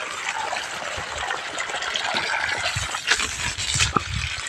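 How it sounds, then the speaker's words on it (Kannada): Water gushing out of a small pipe fed by an electric pump motor on a farm, a steady splashing rush with fluctuating gurgles and a few louder spurts, fairly close and with no talk over it. "ಕರೆಂಟ್ ಕೊಟ್ಟವ್ರೆ, ಆನ್ ಆಗಿದೆ ಮೋಟ್ರು. ನೋಡೋಣ ನೀರು ಬರ್ತಾವ ನೋಡಿ."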